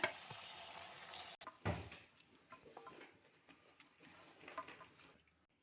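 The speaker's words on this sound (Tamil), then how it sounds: "இப்போ நம்ம வடித்து வச்சுருக்க சாதத்தை கொஞ்சம் கொஞ்சமாக போட்டு கிளறிக்கலாம்." Cooked rice being stirred into a coriander mixture in a home kitchen pan, with soft scraping, light sizzling and patter close by, a sharp clatter near the start, then quieter stirring fading out.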